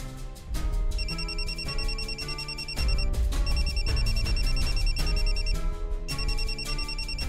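A mobile phone rings loudly and repeatedly in an electronic alarm-like pattern, bursts separated by short pauses, with no one speaking, in a Marathi TV drama scene.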